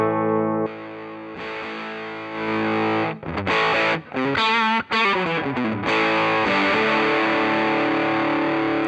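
An electric guitar plays through a NUX Mighty Plug Pro MP-3 on its Distortion Plus fuzzy distortion setting, starting with sustained chords, then quicker picked notes and bends before ringing out.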